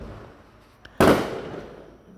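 Single sharp firework burst goes off outdoors, a loud crack with a long noisy decay that rolls away over a second, preceded by a faint small pop.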